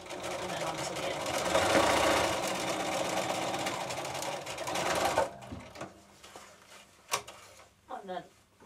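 A sewing machine runs in a steady burst of stitching while a zip closure is sewn into a cushion, forward and then reverse, stopping after about five seconds, then followed by a few clicks and soft handling sounds.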